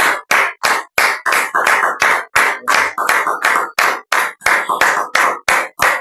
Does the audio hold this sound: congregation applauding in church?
yes